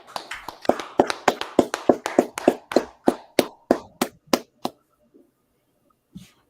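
A group clapping in unison with a steady, rhythmic beat at a brotherhood class gathering, about sixteen sharp claps that speed slightly then stop, followed by silence and one faint later tap.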